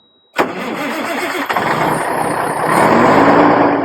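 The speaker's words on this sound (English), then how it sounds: "Now I'm going to start my vehicle." A truck engine cranks and catches, then settles into a loud, steady idle that rises slightly toward the end, with no talk over it.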